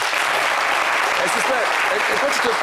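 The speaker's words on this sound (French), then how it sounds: "on peut applaudir pour ça" Studio audience applauding on a French entertainment show, continuous clapping at moderate level, with a voice talking faintly over it.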